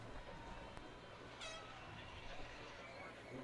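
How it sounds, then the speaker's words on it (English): Distant train passing near a high school football stadium at night, a faint low rumble with a brief horn toot, underneath crowd ambience and a steady hum. "You can hear the train in the distance."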